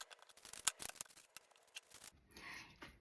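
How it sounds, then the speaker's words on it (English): Tarot cards drawn from a deck, crisp papery flicks and snaps in quick irregular succession, close and fairly quiet, followed by a softer shuffle. "I just want to pull a couple more cards just to finish up."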